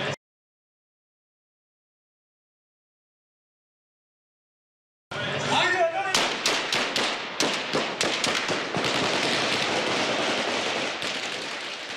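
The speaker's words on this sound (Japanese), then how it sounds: "突然発砲してきた男たち。" Men suddenly open fire with guns in an ambush on a journalist: after several seconds of silence, a burst of sharp gunshot cracks rings out in irregular rapid bursts over a dense, noisy background.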